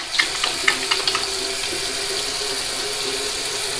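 A bathroom tap runs steadily into a sink while the face is rinsed after a wet shave with menthol cream, a loud close hiss with a few splashes and drips at the start.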